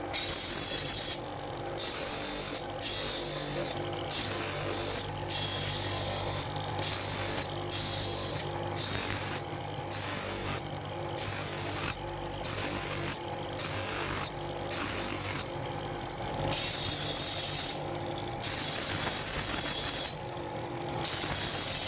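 Gemstone being cut on a number 600 lap segment in a Yemeni-style cut, a steady rubbing, rasping grind that stops and restarts in regular bursts about every second, fairly loud and close with no talk.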